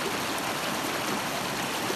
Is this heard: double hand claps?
no